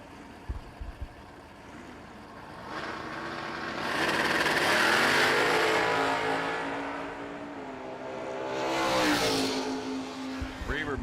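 Mustang drag race car accelerating at a drag strip, a loud engine roar building and sweeping upward to a peak midway, easing, then a second rising surge near the end, under a commentator's voice on the track announcer.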